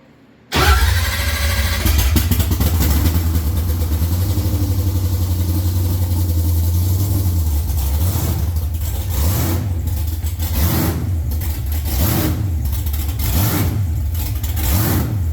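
A blown Camaro engine with misfiring issues fires up abruptly and runs loud and close, its steady drone turning into an uneven, pulsing lope later on.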